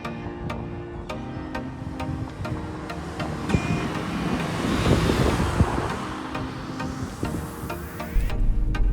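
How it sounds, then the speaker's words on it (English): Inside a Mercedes A200 hatchback on the move, a steady cabin drone of road and wind noise rolls on with faint rhythmic ticks and a gentle swell midway, with no talk. "So in the car driving it now,"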